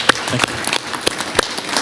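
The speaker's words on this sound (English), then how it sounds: "We'll give you another round of applause." Applause at a Board of Fire Commissioners meeting, a small room of people clapping with distinct, sharp individual claps standing out close by, brief and uneven rather than a full roar.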